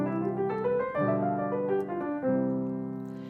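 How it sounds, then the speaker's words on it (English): A solo singing voice runs an eleven-note scale upward and then an arpeggio back down, with sustained, smoothly connected pitches and no accompaniment. "It's 11 notes up in a scalar pattern and then an arpeggio down."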